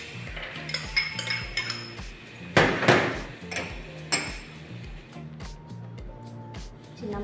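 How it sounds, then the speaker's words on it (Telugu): A knife chops cucumber into small pieces on a board for a healthy cucumber salad, giving clustered tapping strikes with a few louder knocks, close and moderately loud, over a faint backdrop of music. "చిన్న ముక్కలుగా కట్ చేసుకోవాలండి కుకుంబర్"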